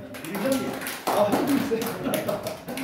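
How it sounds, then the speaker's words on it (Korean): A church congregation at a Sunday morning worship service in Gimcheon claps to welcome the pastor, the applause swelling suddenly about a third of the way in and filling the room, with some voice mixed in. "우리 영동호 목사님 또 우리 박수로 환영할까요?"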